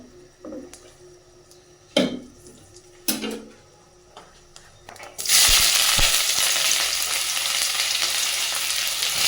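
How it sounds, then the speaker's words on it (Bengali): Fish being sautéed in a pan, a few scraping stirs and clatters at first, then a loud steady sizzle bursting up and holding close for the rest. "এই যে আমার এটা তো এদিকে মাছটা কষানো হয়ে গেছে, আর একটু কষানো হোক ভালো করে।"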